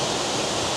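A loud waterfall at Rock Island State Park, Tennessee roars as a dense, steady rush of falling water, close and overwhelming, with no voices.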